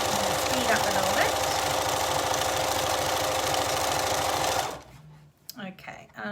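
A sewing machine stitches fabric in a fast, steady mechanical run for several seconds, then stops abruptly, leaving quieter handling noises and a voice speaking nearby.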